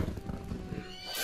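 A horse in the video game Wargroove lets out a short, clear whinny, with faint hoofbeat-like clops mixed in.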